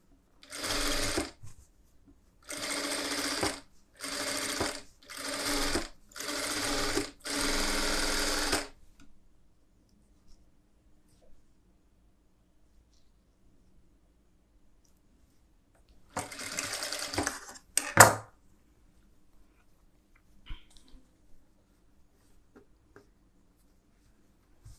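A sewing machine stitches a collar neck blouse in a run of close, loud bursts with short pauses between them, falls quiet, then whirs again in one brief burst near the end.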